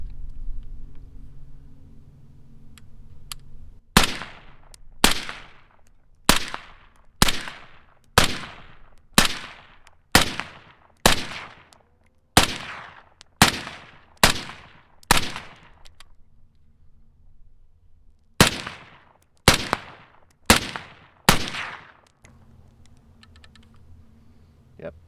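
A rifle fires a full magazine shot by shot, loud close reports spaced about a second apart, with a short pause partway before the last few rounds; the shooter fires with a sling.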